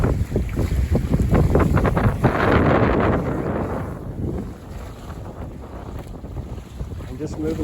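A Buccaneer 18 sailboat sails solo in moderate wind, with steady rushing water along the hull and broadband wind buffeting on the microphone, loud and continuous, easing slightly toward the end.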